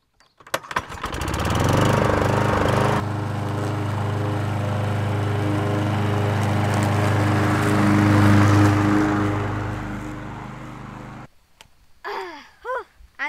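A petrol lawn mower runs steadily at close range with a loud, continuous engine drone, then cuts off abruptly near the end, leaving brief quieter sounds.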